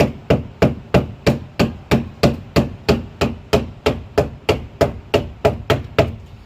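A hammer taps steadily on a hollow resin shed panel, about three blows per second in an even, unbroken rhythm, close and fairly loud.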